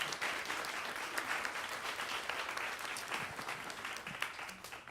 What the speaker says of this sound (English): So please give them a well-deserved round of applause for supporting this series.